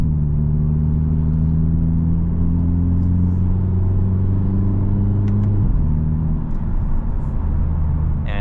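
A Hyundai Elantra N driving in N mode gives a steady, loud engine drone from inside the cabin, holding pitch and then shifting lower partway through, with no talk over it.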